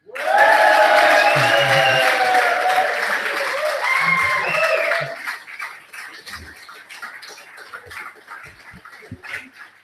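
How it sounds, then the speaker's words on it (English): Applause at a book launch in Belfast: a burst of clapping runs for about five seconds, overlapped by loud tonal cries like a dog or animal, then fades into scattered claps and faint voices. "I'd like you to give a warm round of applause"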